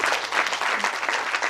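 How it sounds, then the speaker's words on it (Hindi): A seminar audience in Delhi claps together, dense steady applause filling the short moment without pause. "जिनको ये पूरा याद था ना उनके लिए शानदार तालियां।"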